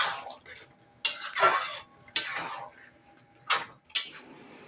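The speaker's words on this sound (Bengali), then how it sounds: "ঘিটা দিয়ে ভালো করে আরেকটু নেড়ে দেব।" A spoon scrapes and stirs cauliflower kalia cooked with ghee in a pan, giving four or five distinct scraping strokes with a quieter background between them.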